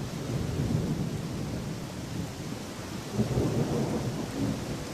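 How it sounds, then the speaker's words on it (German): Rain and thunder in the video game Gothic 2, a steady dark wash of rainfall with low rolling rumbles of thunder swelling twice, moderately loud and without talk. "Ja, es regnet, es ist finster."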